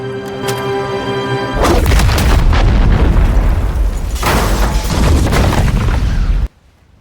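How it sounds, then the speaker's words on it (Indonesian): A big film explosion erupting after a tonal lead-in, a heavy booming blast followed by a sustained roar of fire and debris with a second surge before cutting off abruptly. "ledakan besar itu menghancurkan seluruh lokasi hingga menyisakan puing dan api di mana-mana"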